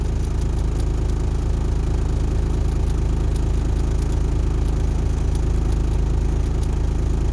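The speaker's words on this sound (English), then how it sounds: "we are gonna bump the idle up a little bit for a warm idle and get the air pressure built up a little quicker" A semi truck's diesel engine holds a raised warm idle, a steady, loud low rumble with light clatter running evenly throughout.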